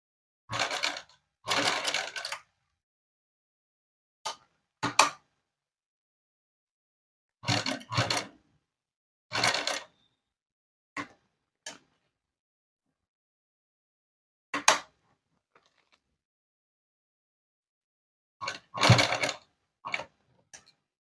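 A sewing machine stitches a child's dress with a long stitch setting in short bursts of rapid whirring, each lasting under a second, separated by silent pauses across the stretch.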